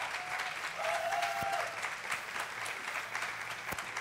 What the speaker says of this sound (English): Laura Ritz, ladies and gentlemen, give her a round of applause.